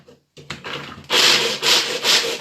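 Roasted nuts are chopped with a knife on a board, giving close, gritty rubbing and scraping strokes in a rhythmic back-and-forth pattern after a short pause.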